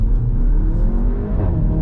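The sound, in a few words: Seat Cupra Ateca 2 litre TSI engine revving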